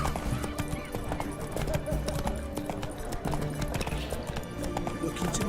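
Horse hooves clip-clopping steadily in the Witcher III video game, a rhythmic, close, fairly loud trot with an occasional whinny, with a voice speaking briefly over the hoofbeats.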